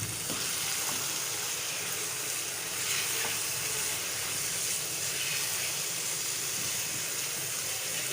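Moong and masoor dal hit hot ghee in a pan and sizzle steadily, a dense, even frying hiss that stays loud and close throughout with no talking.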